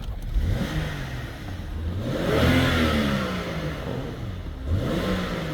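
A BMW N55 engine idles, then revs up and falls back a few times, close and clear, with a smooth rising and falling tone and no speech.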